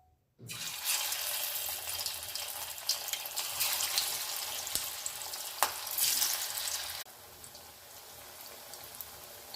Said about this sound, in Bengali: এদিকে আবারও আমি তেল গরম করতে দিয়েছি, এর মধ্যে ধোকাগুলোকে ভেজে নেব।